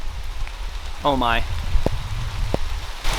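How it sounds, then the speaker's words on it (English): Heavy rain falls outdoors as a steady hiss with scattered louder drop impacts, while a person briefly speaks partway through. "it's starting to rain a lot harder"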